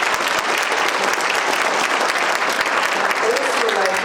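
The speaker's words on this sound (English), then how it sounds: "I'd like to applaud Jean for volunteering." A room of conference attendees gives sustained applause, a dense, even clatter of many hands clapping at steady volume for several seconds.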